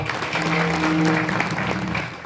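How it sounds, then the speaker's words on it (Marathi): Audience clapping together at a Hanuman temple's first anniversary ceremony during a week-long devotional hymn gathering, a steady, dense burst of applause lasting a couple of seconds with faint background voices. "टाळी वाजवा वा"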